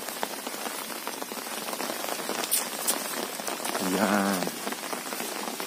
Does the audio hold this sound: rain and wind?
yes